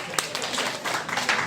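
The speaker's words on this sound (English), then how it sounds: "Please give a clap to everyone who is involved" An audience at an event applauds in a short burst of dense, close clapping, with voices mixed in.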